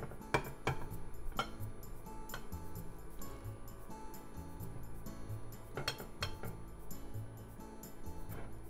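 Metal cutlery scraping and clinking against plates and a pan while sweet-sour soy-glazed pork meatballs are served, with repeated close, sharp clinks over a steady kitchen backdrop.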